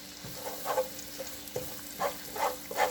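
A garlic, onion, butter and oil mixture sizzles quietly in a pan, with soft bursts of frying and occasional stirring scrapes recurring every half second or so and no voices.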